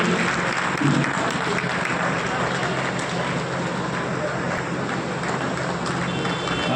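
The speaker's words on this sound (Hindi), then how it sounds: "ताली बजाइए, ताली में किसी प्रकार की कंजूसी नहीं होनी चाहिए।" An audience at an award ceremony applauds continuously, a thick, even wash of clapping from many hands with no break, close and loud throughout.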